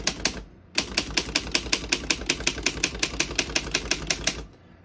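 Keys of a 1936 Underwood antique desktop typewriter strike in a fast, even run of about twenty crisp metallic clacks after one opening hit and a short pause, close and loud with no talking.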